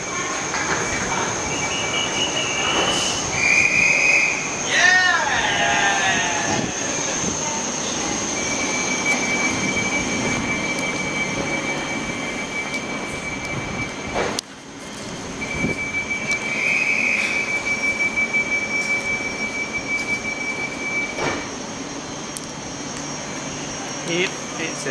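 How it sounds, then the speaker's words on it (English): Interior of a Gatwick Express train on the Brighton to London Victoria service, with a steady rolling rumble throughout, brief squeals and tones, and a sharp bump partway through. "this is from Brighton to London Victoria service. And it's a Gatwick Express service."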